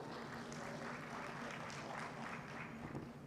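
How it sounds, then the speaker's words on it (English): Audience applause at an economic growth forum, a steady broadband wash of many hands clapping that fills the whole stretch at moderate, even loudness with no voices over it. "Ladies and gentlemen, round of applause for Ms. Priya."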